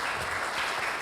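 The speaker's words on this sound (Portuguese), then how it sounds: "palmas a ele," Applause from an audience at a panel event, a steady dense wash of clapping filling the whole second without talk.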